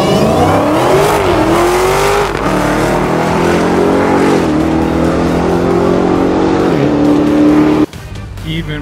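A Dodge Demon roars off the line at a drag strip, its engine loud and sustained as it climbs through gears with rising pitch sweeps, then cuts abruptly near the end; people talk faintly beneath the noise.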